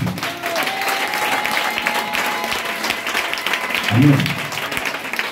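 Applause and cheering from a church congregation at a French-speaking Christian worship service, a loud sustained wash of clapping filling the room, with a voice speaking over it and a brief louder burst near the end.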